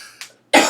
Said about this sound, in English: I'm just coughing up a storm.